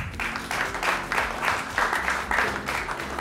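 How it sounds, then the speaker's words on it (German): An audience applauds at a youth poetry slam, steady dense clapping from a crowd that keeps going throughout with slight swells and no break. "Du kannst ruhig klatschen."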